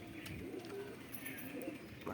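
Pet pigeons coo steadily and close by as they come back down to land after an hour's morning flight, a low warbling murmur that runs through the whole stretch, with faint chirps mixed in.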